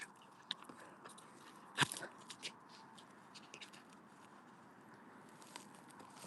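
A dog gnaws on a bone at home, giving faint, irregular crunches and bites with one sharper snap, close by and quiet against a soft background.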